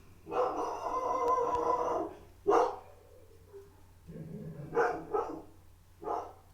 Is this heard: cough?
no